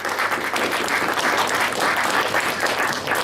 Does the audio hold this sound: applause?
yes